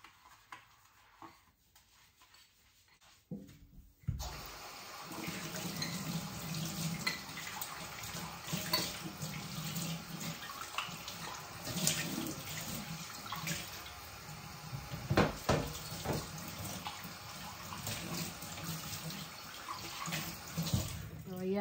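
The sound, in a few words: running water washing before feeding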